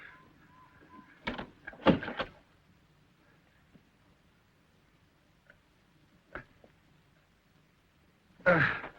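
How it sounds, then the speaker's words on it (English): A door bangs shut in a few sharp knocks and thumps among faint room noise, with another knock later and a final louder clatter at the end. "Shut the door."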